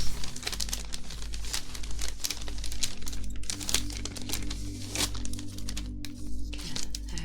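A rip-and-tear Lego parts bag is crinkled and torn open close to the microphone, with irregular crackling plastic bursts and snaps spread throughout, recorded in intimate ASMR-style detail.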